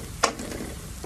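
A single quick scrape of a spoon stirs vegetables frying in a kadai with oil for an anchovy fry, heard over a low, steady sizzle.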